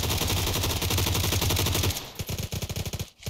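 Automatic gunfire in PUBG during a car chase: a fast, steady burst of rapid shots for about two seconds, then a looser string of separate cracks, fairly quiet and with no talk over it.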